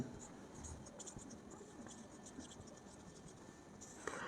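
Pen writing on paper while working a Class 10 maths problem, a steady soft scratching of strokes running throughout, close and fairly quiet, with no talk over it.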